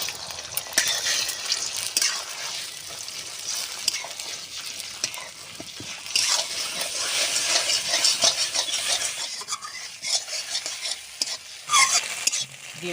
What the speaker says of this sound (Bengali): ডিমটাকে আমি ঝুরি করে নেব।